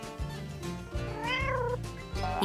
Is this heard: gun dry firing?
no